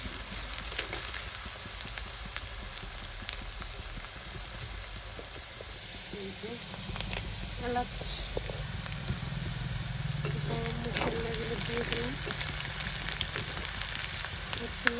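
Food sizzles and spits steadily in a hot pan on a home stove, a constant crackling hiss with occasional clinks and stirring, while someone talks over it.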